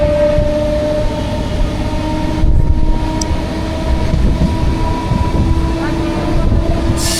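A MEMU commuter train runs from Tirupati toward Katpadi, crossing from Andhra Pradesh into Tamil Nadu past Chittoor, with a steady, loud rumble and hum of wheels and carriage that holds throughout with no pauses.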